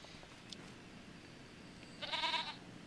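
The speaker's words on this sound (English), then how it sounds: "Yeah, there are goats." Goats in the video game Farming Simulator 25 give a single short bleat near the end, faint against a quiet background hum.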